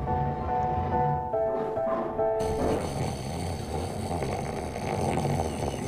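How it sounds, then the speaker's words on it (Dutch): A person snores in a room, a rough rasping breath rising under a steady background hum and some faint tonal sounds, continuous and moderately close. "Je snurkt."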